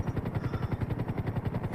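A medical transport helicopter hovers steadily in the air during a patient transfer, its rotor beating in a fast, even rhythmic thump close by, with no talking.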